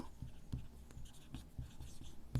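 Pen scratching on paper as a math answer is written out for a Class 7 lesson, a run of short close strokes and taps in an otherwise quiet room.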